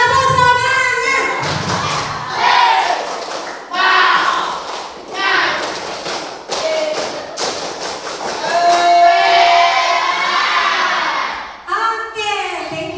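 Classroom group of students doing a spirited rhythmic clap cheer, bursts of loud clapping mixed with shouted chanting voices, close and energetic.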